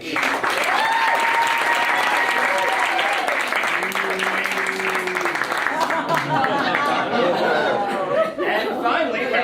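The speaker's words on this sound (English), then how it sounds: "Okay, now give your applause for Mike." Audience in a theatre claps steadily as a show of support during a stage production, dense applause lasting about nine seconds with chatter and a few voices mixed in.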